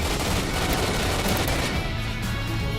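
Dense, continuous gunfire from the video game STALKER, with rapid overlapping shots and bursts forming a loud, steady barrage from start to finish, no voices over it.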